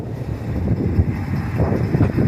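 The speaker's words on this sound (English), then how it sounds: "it's really windy" Gusty wind thumps and rumbles against the microphone, a constant low, blustery roar that swells and dips, with no voices.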